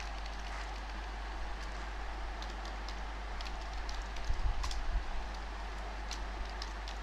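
Keys clatter on a computer keyboard as someone types into a bug-tracking form. The soft, scattered clicks come in irregular runs and stay faint over a steady low hum, with no voice.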